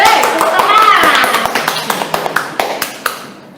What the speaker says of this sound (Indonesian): Hei, tepuk tangan.